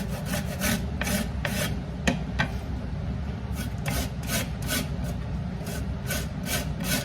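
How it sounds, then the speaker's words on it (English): A whole lemon is zested on a grater, giving steady rasping scrapes in quick repeated strokes, close and fairly loud, with no talk. "I'm just gonna zest this whole lemon"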